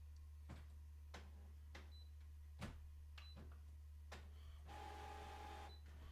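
A home printer runs with a faint, steady low hum, broken by several sharp mechanical clicks and a brief whirring feed near the end, quiet and without speech.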